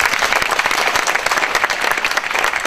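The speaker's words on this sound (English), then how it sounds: "So one more round of applause, please." Applause from the audience at a high school winter concert, a dense, lively burst of many hands clapping, loud and continuous with no talk.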